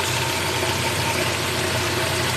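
A 2002 Ford Lynx engine idles at close range, a steady, even, loud mechanical hum and rattle that holds unchanged throughout with no talking.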